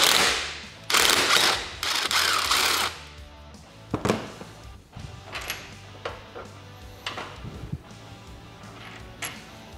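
Tools loosen the front bolts holding the roll cage to the frame of a Polaris Ranger: a loud two-second burst of rattling power-tool noise, then sharper clicks and clanks of parts being handled nearby.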